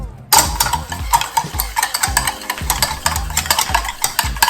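Dalgona coffee being whisked by hand in a bowl, with a fast, continuous clattering of the whisk that starts abruptly after a brief silence, close and loud, with no talking.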